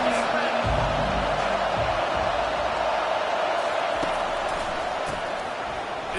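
A football stadium crowd at a Golden Bears versus TCU game, a broad steady roar that fills the background throughout, with low thumps early on and a commentator talking over it.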